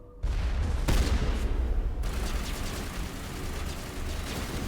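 A shotgun fires in the Mass Effect video game, a loud close blast in the first two seconds, followed by a rumbling, crackling tail of combat noise.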